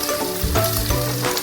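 Garlic and onion fry with soy sauce in a pan, giving a loud close sizzle over a brief stir.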